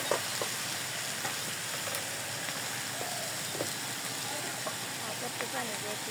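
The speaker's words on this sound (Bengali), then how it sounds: "আমার টাকি মাছ ভাজা ভাজা হয়ে গেছে গা এই পাশে পেঁয়াজ কুচি দিয়ে দিচ্ছিলেন" Taki fish fries in a pan with chopped onion, giving off a steady, dense sizzle and hiss that continues throughout at close range, with faint voices in the background.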